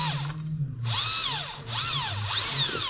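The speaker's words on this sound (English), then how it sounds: "put it in the end of your drill" A power drill spins a cable fed down a tube, whirring in rising and falling bursts, its motor pitch swooping up and down, loud and close with no talking.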